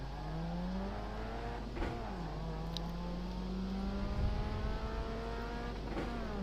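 A race car accelerates on throttle around the Sebring circuit, its engine note climbing steadily through the gears with a brief shift dip, loud and continuous with other cars faintly audible nearby.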